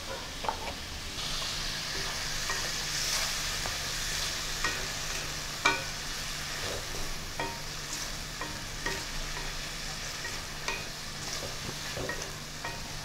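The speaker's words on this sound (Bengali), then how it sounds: "অল্প একটু জল দিয়ে দিচ্ছি মশলাগুলো যাতে ভালোভাবে কষতে পারি।" Ginger paste with cumin and coriander powder sautés in a splash of water, a soft continuous sizzle broken by scraping stirs and occasional clacks of a spoon against the pan, with no voices.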